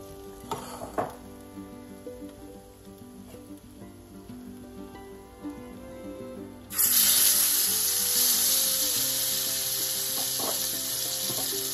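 Fish for a Nigerian peppered fish dish is added as a second batch to a hot pan, breaking into loud, steady frying sizzle after quiet kitchen clatter, then hissing on continuously.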